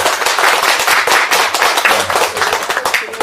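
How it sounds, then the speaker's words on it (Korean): An audience at a panel discussion on the internet and democracy claps steadily, a dense and loud round of applause that continues throughout with no talk over it. "여러분 한 박수로 맞아주십시오."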